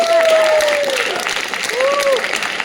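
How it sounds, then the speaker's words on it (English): An audience at the Nyeleni Global Forum 2025 in Sri Lanka breaks into sustained applause, with raised voices or cheers rising briefly above the clapping. "Your applause time now."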